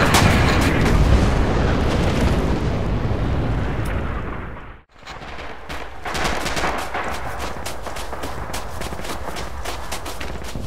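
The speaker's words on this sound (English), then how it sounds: "Move up under the artillery fire." Artillery fire in the Red Orchestra 2 video game on the Mamayev Kurgan battlefield, a dense, loud barrage of booming blasts mixed with rapid gunfire that briefly drops out midway before resuming at full intensity.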